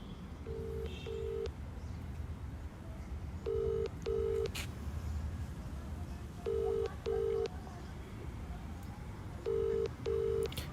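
A phone call goes unanswered, its ringback tone sounding in repeated pairs of short beeps separated by pauses, faint and quiet with no one picking up.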